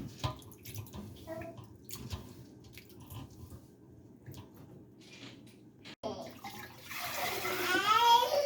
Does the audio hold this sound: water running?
yes